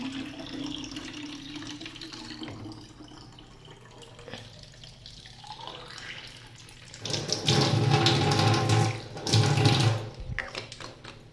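Water from an Aquaguard purifier fills bottles at home: a soft trickle first, then a louder, steady gush of running water that breaks briefly and resumes near the end.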